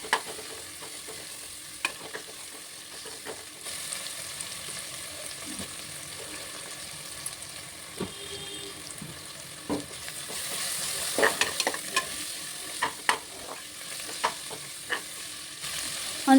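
Onions frying in oil for a mutton biryani, giving a steady sizzle under intermittent scraping stirs of a spoon in the pan, close and fairly loud with no talking.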